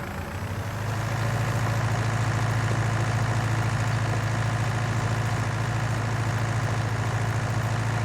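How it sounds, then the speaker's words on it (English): A Fiat tractor in Farming Simulator 19 idles with a steady, loud low engine drone that settles in after a second and holds evenly throughout, with no talk over it. "Warm up the oil, blow the soot out of the exhaust."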